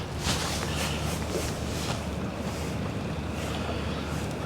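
Strong wind buffets the microphone while fishing from a boat on open water, a loud continuous roar with gusty surges and a low rumble, no voices.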